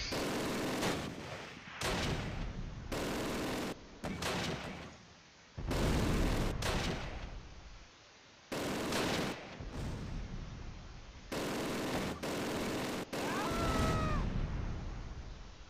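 Bursts of gunfire and heavy artillery blasts in the World War II strategy game Close Combat: Last Stand Arnhem, loud and repeated in dense clusters with brief gaps of silence between volleys.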